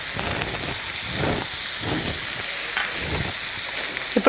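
Freshly chopped vegetables and tomatoes hiss and crackle in a hot pan for alasandalu (black-eyed pea) masala curry, a loud, steady sizzle with swelling bursts and a few clinks near the end.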